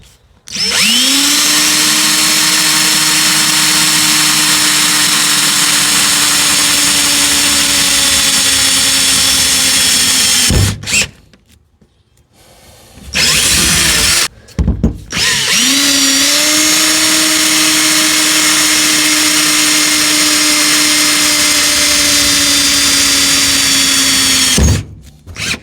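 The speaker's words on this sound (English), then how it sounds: "and we'll drill these 2 holes." A power drill whines steadily for about ten seconds, stops briefly, then runs again for another long stretch, loud and close, drilling two holes while fitting Lexus power seats into a 1957 Chevrolet Bel Air.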